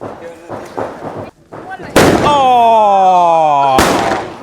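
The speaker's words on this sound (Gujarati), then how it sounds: "આપણે પપ્પાને લાલ ફટાકડા આપી દીધા છે તો એ ફોડે છે. જો આ અવાજ કરે ને" Red Diwali firecrackers set off at home burst with two loud sharp bangs and a ringing, whistling tone between them, after a stretch of people talking.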